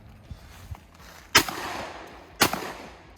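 Two loud, sharp blasts from a Silver Eagle Inertia One shotgun fired about a second apart outdoors, each with a short echoing tail, with faint knocks before the first shot.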